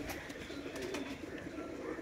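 Pigeons at Sahil Pigeon Loft in R.S. Pura, Jammu and Kashmir coo softly in a low, throaty murmur that stays steady and close for a moment.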